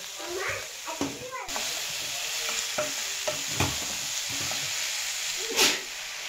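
Boiled, drained green jackfruit being stirred into a spice paste frying in mustard oil, a continuous hissing sizzle broken by repeated scraping stirs and a louder burst near the end, close by.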